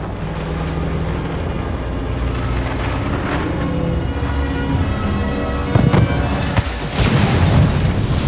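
A detonated payload blows up in a Halo Wars 2 cutscene, with a loud continuous roaring rumble that swells into a heavier, harsher blast surge near the end, no voices.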